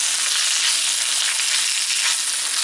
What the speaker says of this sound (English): hold the frying pan to get this done